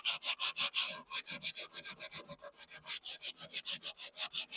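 Rhythmic back-and-forth scrubbing of 100-grit sandpaper over an old shellac finish on a tall clock, steady rasping strokes close up with no voices.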